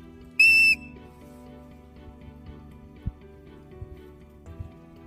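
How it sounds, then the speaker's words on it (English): A dog training whistle gives one short, shrill blast early on, followed by quiet room ambience with a few faint ticks and knocks. "we're going to test the whistle on her today"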